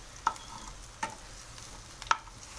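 Onions frying in oil in a kadai give a low, steady sizzle, broken by three brief, sharp spatula scrapes spaced across the few seconds.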